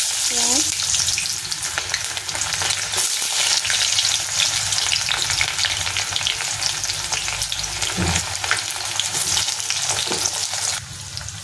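Onions frying in hot oil with bay leaf and whole garam masala for a mutton curry, a steady close sizzle with occasional stirring scrapes and clicks of a spoon against the pan.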